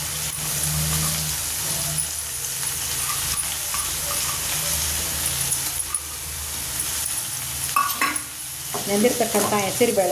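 Soaked moong dal stirred in hot oil in a pan, a continuous sizzle with a low background rumble and scraping stir strokes growing busier toward the end, close and alone.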